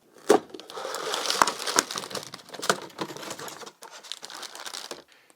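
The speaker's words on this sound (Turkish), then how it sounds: "Kutuyu açıyorum." Crinkling and rustling of cardboard and packaging as a LEGO Technic set box is opened, with a few sharper tearing or snapping noises, close and moderately loud.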